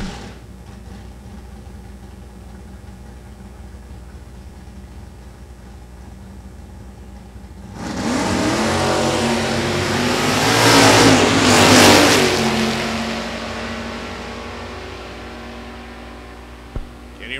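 Drag racing cars, a 65 Nova and a 67 Fairlane, E-Gas class. Steady idle hum at first, then a loud burst of full-throttle acceleration that builds and peaks before fading back as the cars pull away.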